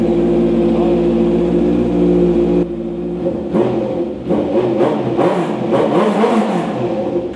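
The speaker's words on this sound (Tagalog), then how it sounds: "Sound check na rin natin yung full system na naka-carbon." Honda motorcycle with a full carbon exhaust system idling loudly with a deep steady drone, then blipped in several sharp, raspy revs close by.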